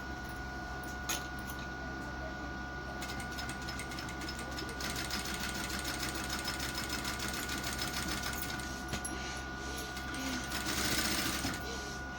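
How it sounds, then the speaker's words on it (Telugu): A sewing machine stitches a plain blouse, a steady fast motor hum with continuous needle chatter, close and even, with brief shifts in intensity as the fabric is guided. "మనం 1/2 ఇంచ్ గ్యాప్తో కుట్టుకుంటూ రావాలి."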